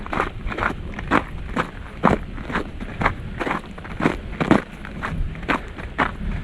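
Crunchy footsteps on icy snow along a winter fat bike trail at a reforestation camp, a steady walking rhythm of close, crisp crunches, roughly two per second, with no talking.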